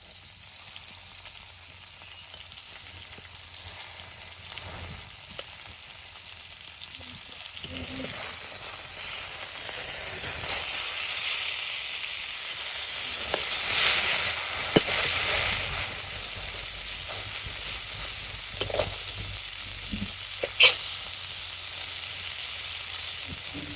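Turmeric-and-chili-rubbed fish sizzling in hot oil in a village kitchen after being flipped, a continuous bright hiss with occasional pops and a sharp clatter near the end.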